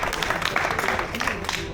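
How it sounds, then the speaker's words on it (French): Brief burst of clapping from about sixty street fishing contest participants, close and busy, mixed with people talking over it. "franchement on peut vous applaudir"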